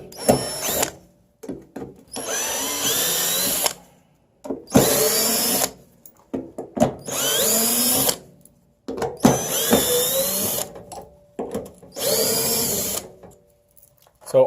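A power drill backing screws out of RV steps, whirring in several loud bursts of a second or two each, separated by short pauses, close to the microphone.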